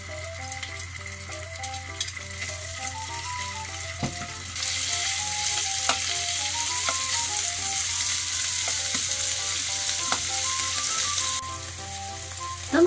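Bacon frying in olive oil in a frying pan, a continuous bright sizzle that swells louder partway through, beneath steady background music, with no speech.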